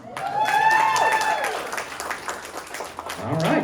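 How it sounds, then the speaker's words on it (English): Audience applause and clapping in a comedy club crowd, a dense wash of many hands that stays loud throughout, with a tonal whine over the start and a voice speaking faintly beneath. "Some of you guys clapped pretty hard at that."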